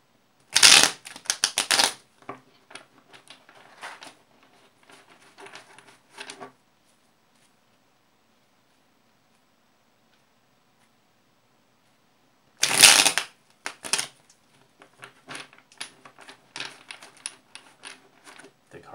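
Tarot cards are shuffled in two bursts of rapid riffling and flapping, close and crisp, separated by a long quiet gap, with scattered softer card handling and taps after each burst.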